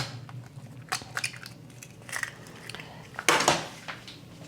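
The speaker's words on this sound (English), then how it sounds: "Okay, crack the eggs." Four eggs are cracked in a home kitchen, with several sharp close taps and cracks, one louder snap standing out near the end, spread among small clinks of shell and dish.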